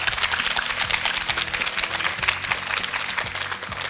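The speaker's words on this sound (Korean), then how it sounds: "큰 박수 보내주시기 바랍니다" Lecture audience applauding at an education concert event, a continuous wash of many hands clapping at steady loudness, with a low electronic hum underneath.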